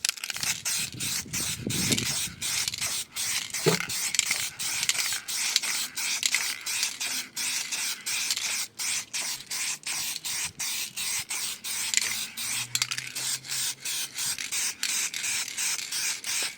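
An aerosol can sprays paint onto Toyota Mk2 Supra engine cam covers, short hissing bursts repeating in a steady rhythm with brief gaps, close and fairly loud, no talking.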